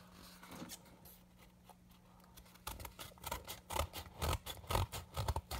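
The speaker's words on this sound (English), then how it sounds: "let me get my scissors for this." Quiet at first, then a series of crisp scissor snips close by, cutting open mail in quick irregular bursts.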